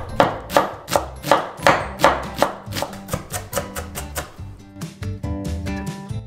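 Rapid knife chopping of an onion on a cutting board, a steady run of sharp, close taps that grow quicker and lighter toward the end.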